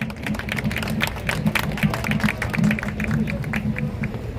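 An outdoor crowd at a political rally beside Cheonggyecheon stream claps as a 29-year-old job seeker comes up to speak, giving a dense patter of applause with a murmur of voices throughout.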